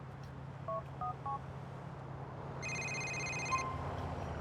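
Mobile phone dialing tones in Grand Theft Auto IV: three short paired beeps in quick succession, then one longer multi-tone chime, clear and close over a low engine rumble.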